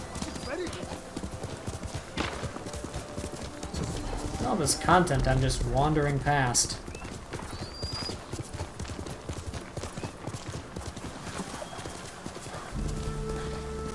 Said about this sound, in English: Those are Mongols on horses!